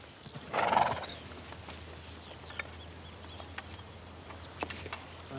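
A horse, noted as lame, gives one loud whinny near the start, followed by faint, scattered clip-clops of hooves, quiet and sparse, with no talk.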